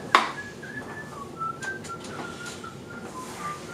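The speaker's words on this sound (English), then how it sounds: "Are you like whistling that out loud or something like that?" Someone whistles a wandering tune of short and held notes, clear and fairly close, with no talking.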